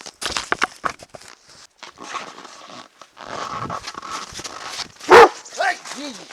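A dog lets out a loud, sharp bark near the end, after a stretch of mixed noises and breathing, in an outdoor setting along a trapline.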